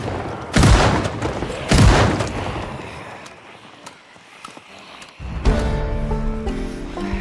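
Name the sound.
JS2000 shotgun firing in video game Project Zomboid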